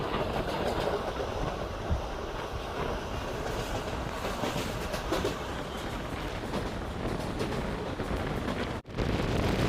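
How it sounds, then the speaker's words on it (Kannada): A passenger train between Hindupur and Bangalore running on rails, heard from on board as a continuous loud rumble and rattle with steady wheel noise throughout, briefly dipping once near the end. "ನಮ್ಮ ಟ್ರೈನ್ ಈಗ ಮಾಕಳಿ ದುರ್ಗ ರೈಲ್ವೆ ಸ್ಟೇಷನ್ನ ಸ್ಕಿಪ್ ಮಾಡ್ತಿದೆ"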